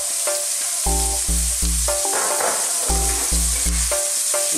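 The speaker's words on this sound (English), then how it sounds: "Now, with the same pan and that same oil, let's drop our onions in." Onions fry in steak-seasoned oil in a pan, a steady sizzle heard beneath a louder, repeating melodic music bed; no voices.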